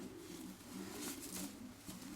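Racing pigeon, a young bird from a breeding pair, cooing softly nearby in a loft, a low repeated throaty coo over quiet background.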